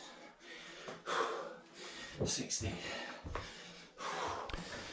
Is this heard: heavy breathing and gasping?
yes